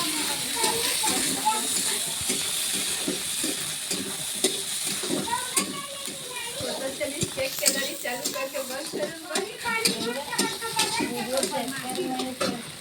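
Onion and chillies fry in a kadhai with a continuous crackling sizzle and hiss, stirred with occasional scraping, while people talk over it throughout.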